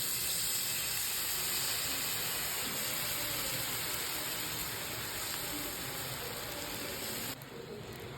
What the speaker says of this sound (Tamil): இப்போ ஆனியன் ரவா தோசை தான் நம்ம போட போறோம். 2 கரண்டி மாவு எடுத்து அப்படியே லேசா ஊற்றிக்கணும்.